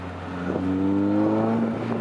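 A Lotus Exige engine fitted with a K&N intake revs up and holds a rising, droning tone before easing off, close and fairly loud with no talking over it.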